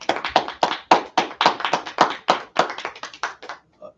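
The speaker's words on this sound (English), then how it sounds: "Let's clap it up." A small group claps hands in a quick, uneven run of sharp, close claps, bunched in bursts and then thinning out to a couple of final claps.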